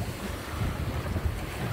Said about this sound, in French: Voilà, on est sous grande voile uniquement.